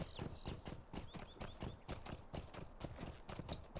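Steady, rapid clip-clop of a Stable Master horse's hooves while riding along a road in the game LotRO, close and continuous with no talking.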